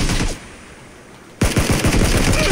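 PUBG gunfire: a burst of rapid automatic shots, a sudden drop to near quiet for about a second, then another loud stretch of repeated close shots.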